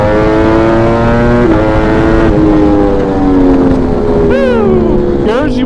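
Italian motorcycle engine revving hard in first gear, loud and close, with a steady rising engine tone, a brief drop at each shift point and quick whining revs near the end.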